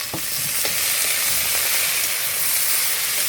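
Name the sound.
greens frying in oil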